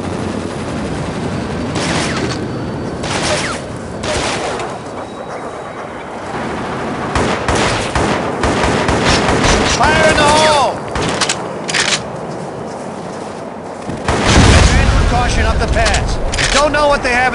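Dense, sustained gunfire from a Vietnam War shooter game, Shellshock: Nam '67, with rapid machine-gun bursts and repeated shots throughout, loud and close, building to a heavier burst near the end under radio-style voice commands.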